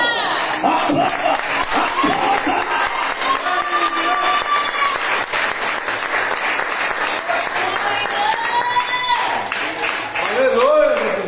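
Loud sustained applause from a large church congregation during a sermon, dense clapping throughout with a preacher's voice rising over it near the end.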